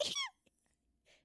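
A single quick, high, squeaky sneeze from a person, close at the start, followed by near silence and a faint breathy noise.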